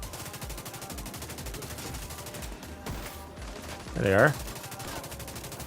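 Rapid automatic gunfire in the shooter game The Division 2, steady bursts running under someone speaking, with a brief louder effect near the end.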